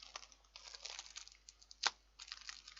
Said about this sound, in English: I'm going to get the plastic fork out of the plastic bag to show you.